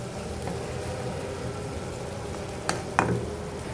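Shrimp and pointed gourd are sautéed in a pan, a continuous close sizzle with a couple of sharp spatula clinks and scrapes near the end, no talking.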